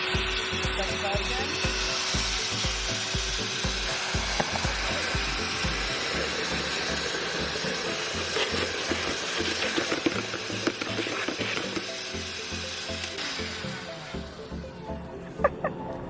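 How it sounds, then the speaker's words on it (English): A Ryobi ONE+ cordless 6-gallon wet/dry vacuum roars steadily as it sucks up water, with gurgling and sputtering mixed into the loud, continuous motor noise. "now we're gonna suck up this water"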